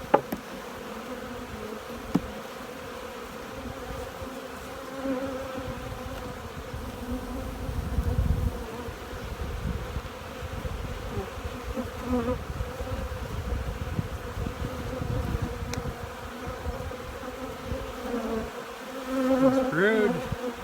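Honeybees buzz around an open nucleus hive during a fall brood nest inspection, a steady close hum with individual bees droning past the listener.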